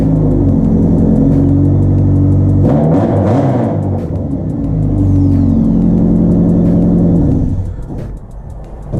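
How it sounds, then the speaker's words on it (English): A rally car's engine runs after an exhaust repair, a loud, deep rumbling idle that rises in a brief rev midway, then settles back and fades slightly near the end. "We're going to fire it up, make sure that there's still no exhaust leak."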